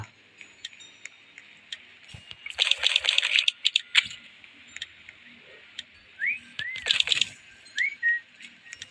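A few short rising whistle notes from a person sound moderately loud near the end, among scattered clicks, ticks and bursts of background noise.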